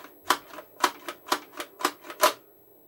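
Logic3 P99L laser blaster gun cycling its recoil action: seven sharp mechanical clacks in an even, quick rhythm, close and fairly loud, with no voices.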